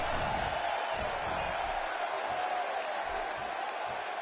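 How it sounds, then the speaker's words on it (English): A video game wrestling arena crowd in WWE 2K17 roars in a dense, steady wash of cheering, loud and continuous throughout with no clear breaks. "Would you listen to this crowd show their appreciation for these amazing competitors?"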